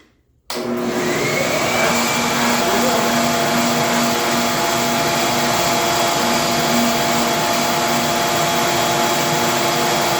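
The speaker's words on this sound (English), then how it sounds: "we got trusty old JJ running the shop vac while I make a trim board" A shop vacuum starts up in a woodworking shop and runs with a steady, loud roaring whine that holds constant from the start onward, close by.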